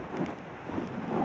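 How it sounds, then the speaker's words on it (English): Wind buffeting a microphone on an exposed winter hilltop path at Rivington Pike near Bolton, a steady low rumbling roar throughout with no voices. "Yeah, sorry about the wind."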